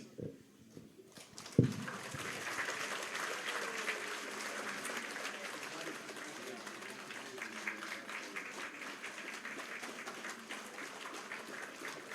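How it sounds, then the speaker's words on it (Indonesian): An audience at a Catholic thanksgiving celebration breaks into sustained applause after a sharp thump, the clapping swelling quickly and holding steady for about ten seconds, with faint voices underneath. "kita berikan apresiasi dan juga tepuk tangan yang meriah"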